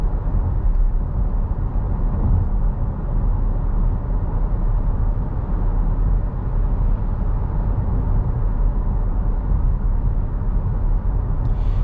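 Steady low road and tire rumble inside a 2024 Chevy Blazer cruising at about 45 mph, a constant muffled drone heard alone throughout with no talking.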